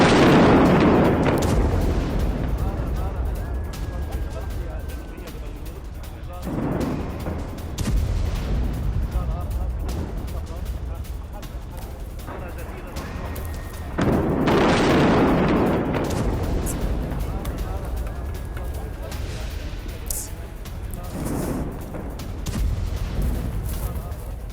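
Israeli missile strikes explode on buildings in Beirut at night. Several deep, heavy booms land every few seconds, each followed by a rumbling tail, under continuous narration.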